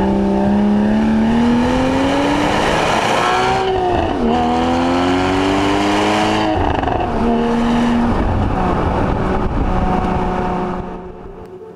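A 2015 Porsche Cayman GTS with sport exhaust roars loudly and up close, its engine note rising and falling through revs with crackling pops and burbles on overrun, no voices.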